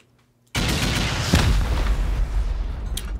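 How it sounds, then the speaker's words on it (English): A loud rocket blast hits a bunker in a survival video game, followed by a long rumbling, crackling explosion tail with further booms, all alone after a brief near-silent start. "All right, that was my last rocket."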